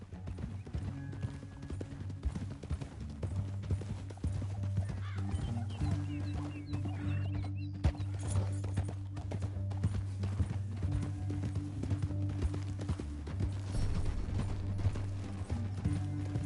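Horse hooves clip-clop faintly in Red Dead Redemption II, a steady rhythmic plodding under a low droning musical bed with occasional mechanical clinks.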